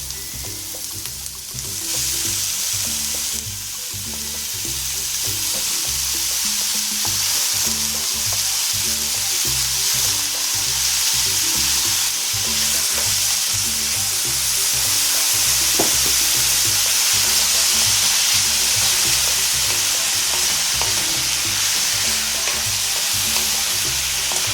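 Mushrooms stirred into softened onions, garlic and chili frying in a pan, with a steady close sizzle and repeated scraping, clinking stir strokes throughout.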